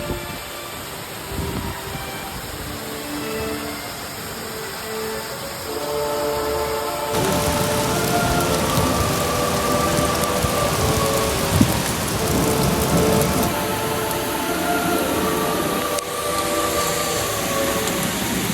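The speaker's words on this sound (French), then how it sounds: "Pile au moment où on entame cette descente, et bah la grêle tombe." Hail falling on a mountain trail during a descent in Corsica, a dense, continuous roar of pelting ice that thickens partway through, steady and enveloping with no voices.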